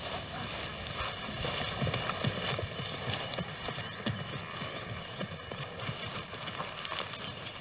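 Burchell's zebras move across grassland, their hooves thudding in soft, irregular clip-clops at moderate distance against a faint outdoor background.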